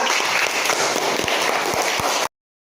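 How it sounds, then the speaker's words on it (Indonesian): Classroom of students applauding a student group, a dense wash of many hands clapping close and loud for a couple of seconds before it cuts off abruptly. "tepuk tangan dulu untuk kelompok 3"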